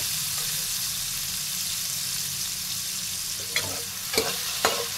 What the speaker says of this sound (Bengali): এবারে আমি বিনস আর গাজরটা সুন্দর করে ভেজে নেব